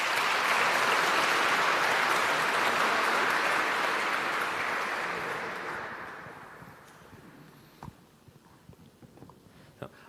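An audience applauding inside Carlow Cathedral at an award ceremony, a dense, broad wash of clapping that holds steady for about five seconds, then fades out, leaving scattered faint knocks in the reverberant space.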